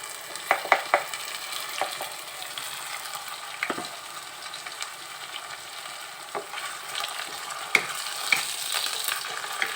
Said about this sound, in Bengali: ব্রাউন যতক্ষণ না আসছে ততক্ষণ একটু ভাজতে হবে, তারপর মশলা দেবো।